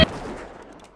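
A single sharp gunshot fired by a non-player character in a dwarf-themed video game cracks loudly at the start, then decays into a short fading tail.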